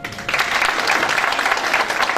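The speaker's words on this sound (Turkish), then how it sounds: "Önce bir alkışlayalım." Audience applause at a Republic commemoration panel, a dense, steady wash of many hands clapping that holds at an even, fairly loud level throughout without any speech over it.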